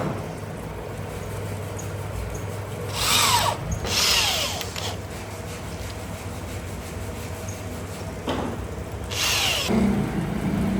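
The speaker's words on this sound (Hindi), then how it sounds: "उसके बाद इनकी साइडों के ऊपर एक ड्रिल के साथ होल कर लिया जाता है" Power drill boring holes into the sides of wooden door planks for a bunk bed cabinet in a Lahore workshop, heard in several loud bursts between steady background workshop hum, with no talking.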